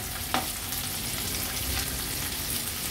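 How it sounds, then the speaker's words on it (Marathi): Marinated crab (chimbori) frying in a pan, a steady moderate sizzle and crackle with one brief clatter near the start, no talk. "नंतर ही चिंबोरी जी आपण मॅरिनेट केली आहे याच्यामध्ये ठेवूया"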